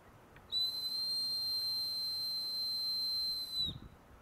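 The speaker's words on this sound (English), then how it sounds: "That's the loudest whistle I ever made." A single loud, piercing whistle from a deer antler whistle holds one steady high pitch for about three seconds, then cuts off, with a faint thump afterward.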